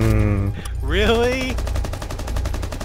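Steady rapid gunfire rattles through the whole stretch of a Rainbow Six Siege hostage match, loud and continuous, while a voice or in-game tone sweeps briefly over the first half.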